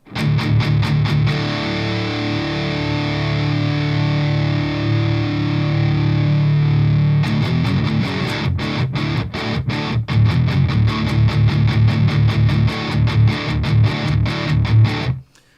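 A PRS electric guitar played through a Revv G120 MK III amp in fat mode gives thick, loose, heavily distorted chugging and sustained chords, loud and continuous, with rhythmic palm-muted bursts in the second half and no talking.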